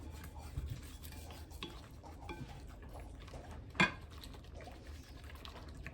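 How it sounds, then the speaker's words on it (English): A small whisk stirring sweetener into a bowl for a banana cake batter, quiet soft swishing and light taps throughout, with one sharp clink against the bowl partway through. "I'm going to mix the sweetener up in there. I might even use my little whisk I had out a while ago"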